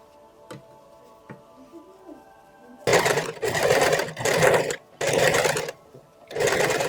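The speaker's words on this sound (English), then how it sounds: "top stitch close to the seam line between the lining and the back bodice" A sewing machine top stitching close to the seam line between the lining and back bodice of an áo dài: after a few faint clicks, four or five loud bursts of rapid stitching with short pauses between them.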